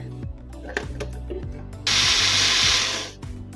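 Almonds and water are ground into a paste in a mixer grinder; quiet room noise gives way to a loud, steady, close whir that runs for over a second and then stops.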